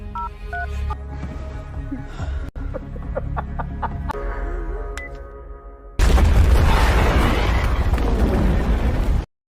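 A loud detonator explosion in an action film hits abruptly partway through, a dense roaring blast that follows quieter tones and clucking sounds and holds at full strength until it cuts off.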